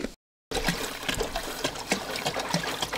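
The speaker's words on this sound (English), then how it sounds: "this is running water" Water trickling and splashing inside a truck camper, a steady close-up stream of dribbles and drips after a brief dropout at the start, heard alone without talk.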